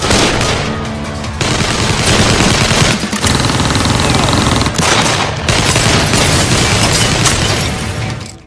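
Loud sustained gunfire with rapid automatic bursts and booming shots, layered over an intense dramatic film soundtrack with barely a pause.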